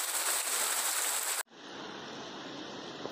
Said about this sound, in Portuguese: Chuva forte. Bastante chuva caindo aqui.